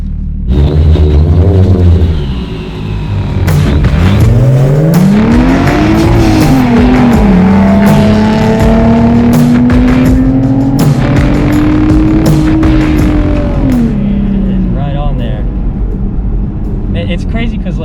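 A supercharged V6 drag Mustang in Sport Plus mode launches hard with tire squeal, its engine note climbing steadily through a long, loud pull before easing off near the end, with voices briefly over the start.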